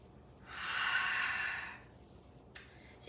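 A single long, deep breath drawn and released during a seated chair exercise routine, close and breathy, followed by a short sharp exhale-like puff.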